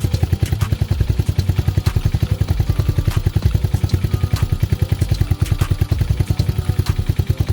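A Lifan KP Mini 223 OHC 165FMM single-cylinder engine runs on a bike after a repair, idling steadily with a rapid, even, close-up putter and a light mechanical clatter throughout.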